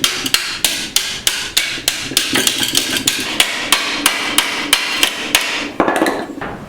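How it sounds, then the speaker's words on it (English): Repair sections cut from an old car's removed rear panel get hammered into shape in a vise: a steady run of sharp metal strikes, close and loud, about two or three per second, with no talking. "I'm cutting repair sections from the old panel that was removed from the car, and I'm forming them here, held in the vise"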